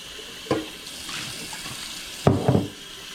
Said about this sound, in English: Washing my pickle jars out.